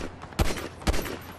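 Gunfire in GTA V Online during a deathmatch, two sharp close bursts a half second apart over low background game noise, no talking.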